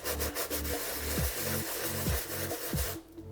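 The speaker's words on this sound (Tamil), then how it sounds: "ப்ரஷ் எடுத்து இப்படி ஜென்டலாக இப்படி ரப் பண்ணுங்கள்." A brush gently and slowly rubbing yellow stains off shoes, dry cleaning without water, giving steady rhythmic scrubbing strokes up close that stop near the end.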